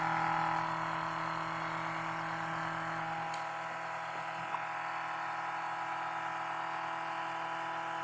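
A small axial pulse motor with four coils and four neodymium magnets spins at a steady speed, giving a constant whirring hum with a fixed tone that eases slightly partway through and runs alone without voices.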